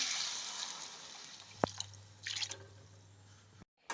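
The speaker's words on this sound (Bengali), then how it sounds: "এখন দিয়ে দিচ্ছি জল" Water goes into a pan of banana flower curry during cooking, making a soft pouring splash with a sharp drip and a short sizzle over faint kitchen hiss.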